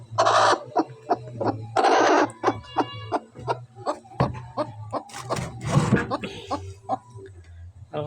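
A desi hen sitting on a clutch of eggs clucks close by in repeated short, throaty bursts with brief pauses, mixed with a few higher squawks and a low steady hum underneath.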